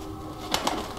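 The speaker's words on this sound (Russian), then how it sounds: "Вот наша птичка." Two soft pigeon-like coos from a bird in the Thief video game, brief and close together over a steady low ambient hum.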